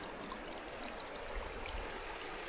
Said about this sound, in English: it's still really cool seeing the water flowing all the way from that tiny little hole at the bottom of the hill there